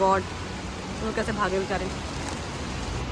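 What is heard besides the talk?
heavy rain pouring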